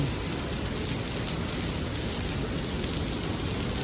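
Steady, loud rain pours down on Fifth Avenue in New York City in a dense, even hiss with scattered drops pattering on surfaces, no voices present.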